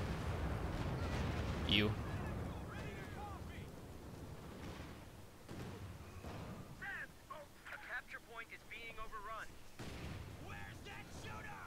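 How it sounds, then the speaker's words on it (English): Heavy artillery barrage from Stuka dive bombers in the World War II strategy game Company of Heroes 2, rumbling booms and blasts with a commentator talking over the battlefield noise. "Big Stuka barrage comes in."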